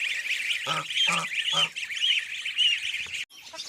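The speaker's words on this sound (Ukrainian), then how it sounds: "Гуси відганяють трошки, але то нічого зараз. Гуси пастися і ці наїдяться." Geese honk repeatedly in a farmyard, several loud nasal calls close by, with more honking continuing in the background.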